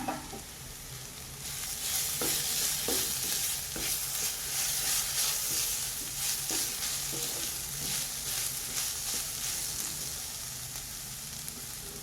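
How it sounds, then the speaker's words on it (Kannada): Fresh curry leaves and green chillies dropped into hot oil for a mushroom fry, a loud crackling sizzle that swells after a quiet start and then settles, with rhythmic stirring scrapes, close and steady with no talking. "ಈಗ ಇದಕ್ಕೆ ಹಸಿ ಕರಿಬೇವಿನ ಸೊಪ್ಪನ್ನು ಹಾಕ್ಕೊಂಡಿದ್ದೀನಿ"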